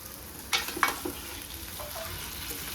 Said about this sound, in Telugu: ఇలా దగ్గరికి వేపుకొని బాగా నూనె కొంచెం పైకి తేలే వరకు వేపుకోవాలి పన్నీర్ని